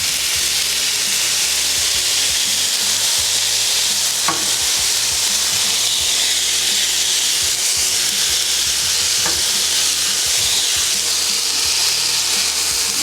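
Smashburger patties sizzling on a flat griddle, a loud continuous crackling hiss with a couple of faint scrape clicks, steady and close throughout without any speech.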